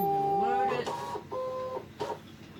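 A Brother ScanNCut cutting machine draws in its cutting mat with close whirring motor tones that start, stop and shift pitch in short bursts.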